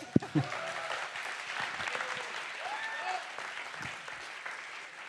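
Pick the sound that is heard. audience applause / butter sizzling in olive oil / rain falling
audience applause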